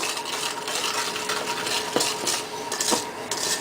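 Clafoutis batter with flour being stirred vigorously in a bowl, a steady scraping whisk with a few sharp clinks of utensil against the dish.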